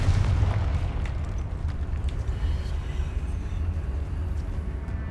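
A Confringo spell explosion in the video game Hogwarts Legacy gives a loud, deep boom that opens the clip and rolls into a sustained rumbling roar of debris and fire, with no voices over it.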